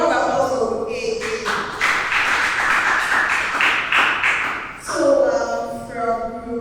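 An audience claps for a speaker at a storytelling masterclass, a dense patter of many hands lasting about three seconds, moderately loud, with a voice speaking just before and after it.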